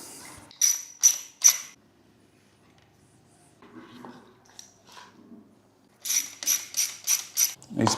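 A hand ratchet clicks in quick bursts while removing the fork guards on a KTM motorcycle: three sharp clicks, a quiet stretch with faint handling noise, then a faster run of five or six clicks, close and crisp.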